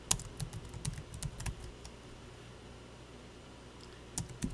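Computer keyboard keys are tapped in short, irregular bursts during accounting data entry. The clicks are close and crisp, clustered at the start, then a quiet pause, and a few more taps at the end.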